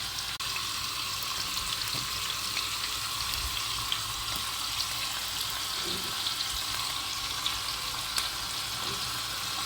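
Oil sizzles steadily in a pan beside rice with vegetables, a continuous bright hiss with small crackles, close and fairly loud with no pauses.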